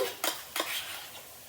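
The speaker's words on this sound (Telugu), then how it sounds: "దీనిలోకి మనం ఒక table spoon ginger garlic paste వేసుకుందాము" Ginger garlic paste scraped into a pan of soya pepper fry and stirred, two quick metallic spoon strokes against the pan over a soft, continuous sizzle.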